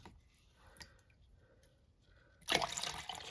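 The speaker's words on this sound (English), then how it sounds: "So let's start by scooping some water, filling it to that level, and pouring in here." Water is scooped and poured into a mixing container for plaster: a few faint drips and clinks at first, then a sudden loud gush of pouring liquid near the end.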